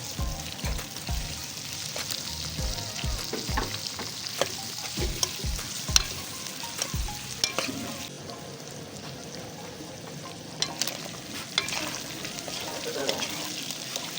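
Boiled prawns and chopped onions fry in about a cup of oil in a karahi, with a steady close sizzle and repeated spoon scrapes and stirring knocks throughout.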